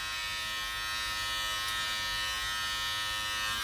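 Pro Design water-resistant electric hair clippers with a 1/8 inch guard cut hair in a steady, close, loud buzz that runs unbroken throughout, with no voices.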